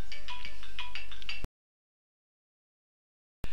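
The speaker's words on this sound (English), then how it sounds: "my phone rang" A mobile phone ringtone plays a bright, repeating pattern of tones for about a second and a half, then cuts to sudden silence before a brief return at the end.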